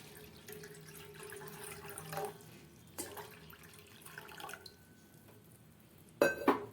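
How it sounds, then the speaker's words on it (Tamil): Water is poured and trickles quietly into a cooking pot, about 500 ml, with a brief clink of metal and a louder splash near the end. "அதில் பார்த்திங்கன்னா ஒரு 500 ml தண்ணி சேர்த்துக்கலாம்."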